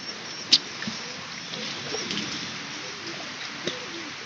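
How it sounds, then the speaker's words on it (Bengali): Pigeons with young chicks perched overhead coo softly on a rainy day, low and faint, with a sharp brief sound near the start and a quiet background hiss. "উপরে যে বাচ্চাল্লা কবুতর আছে আপনারা দেখছেন"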